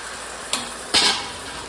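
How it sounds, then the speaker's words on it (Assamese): Water poured into a kadai of frying taro stems bursts into sizzling, a short hiss followed by a louder, longer crackling sizzle that fades gradually. "মই অলপ এনেকৈ পানী দি লৈছোঁ"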